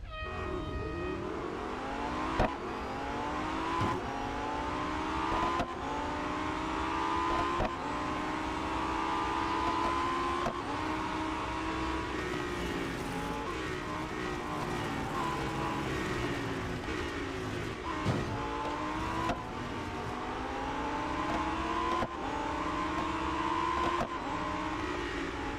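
Race cars in Real Racing 3, a 22-car field on the Bugatti circuit, keep up a steady engine whine with repeated gear-change sweeps and brief clicks, sustained and moderately loud.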